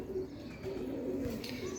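Soft, low cooing of Teddy breed pigeons repeats through a steady murmur of background noise, with no voices.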